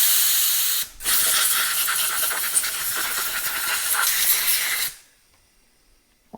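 Compressed air blasts out of a Kawasaki Concours ZG1000 motorcycle carburetor part in a loud, close hiss lasting about four seconds, briefly interrupted near the start, then cutting off abruptly into quiet.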